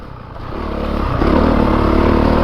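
Honda CRF450RX dirt bike engine while riding, a close, loud, rising motor drone with a steady buzzing rasp that builds over a couple of seconds, no talk.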